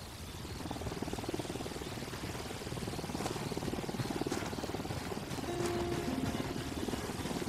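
A helicopter in the video game Ghost Recon Wildlands fills the scene with a loud, steady, rapid rotor chop and engine drone, continuous throughout with a faint tonal whine near the end.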